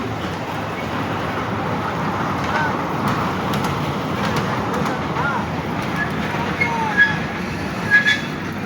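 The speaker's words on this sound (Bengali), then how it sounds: "ট্রেন দেখেন ওই পাশ দিক ঘুরে আবার এই দিক দিয়ে চলে আসছে" A train rolls through green parkland in a steady, continuous rumble that holds throughout, with a couple of brief high squeals near the end and no clear speech.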